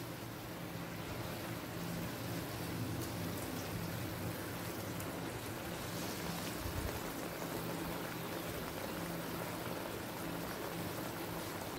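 Fried pabda fish simmering in a gravy at a boil over a medium-high gas flame: a soft, continuous bubbling and hissing, faint and even throughout with no talk.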